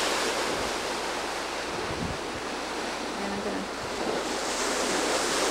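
Ocean waves crash and splash against a sea wall beside a sidewalk, forming a loud continuous roaring wash, with a voice speaking briefly over it.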